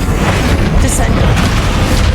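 Heavy magical spell impact in Hogwarts Legacy on Xbox Series X, a deep booming blast that rumbles continuously with dense low-end energy, loud and close, with game speech mixed in.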